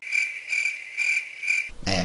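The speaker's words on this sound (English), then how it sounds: "more crickets" Crickets chirp in steady, loud pulsed trills, four evenly spaced bursts in a row, ending with a short rougher burst of noise.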